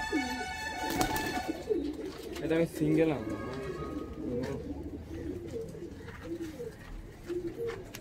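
Mechiya pigeons, a high-flying breed, coo in a loft, their low rolling calls repeating steadily through the clip beneath nearby conversation, with a brief sharp knock near the start.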